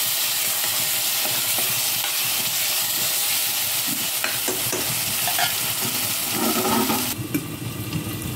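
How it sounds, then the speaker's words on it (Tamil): Ginger garlic paste sautés in a hot pan for a prawn dry gravy: a loud, dense, continuous sizzle with scraping stirring strokes throughout, up close and without speech. "இஞ்சி பூண்டு ஸ்மெல் போகிற வரைக்கும் நல்லா வதக்கிக்கலாம்"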